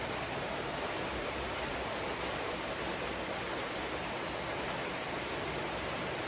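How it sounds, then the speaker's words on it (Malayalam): Steady rain falls outside a home kitchen, a constant dense hiss with no breaks and no voices over it. "മഴയാണ്."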